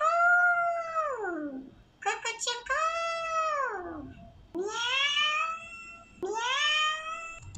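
A chipmunk voice-changer effect renders speech as high, squeaky, sped-up phrases, with several short bursts separated by brief pauses.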